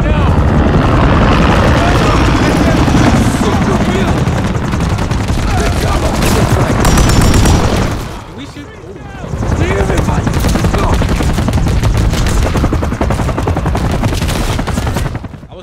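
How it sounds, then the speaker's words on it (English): Helicopter rotor and rattling gunfire in a Call of Duty: Modern Warfare 3 campaign battle, loud and dense throughout, with machine-gun bursts layered over a steady aircraft drone that dips briefly near the middle before resuming; voices occasionally break through. "Helicopter down"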